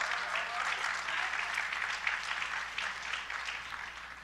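Soft, distant audience applause at a panel discussion on vaccines and health, a steady even patter that rustles on for several seconds and thins slightly at the end.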